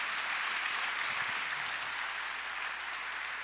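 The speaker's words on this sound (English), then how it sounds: "Let's give our panel a round of applause." At an education event, an audience applauds a panel with soft, diffuse clapping that sounds distant and evenly spread, with a faint voice briefly underneath.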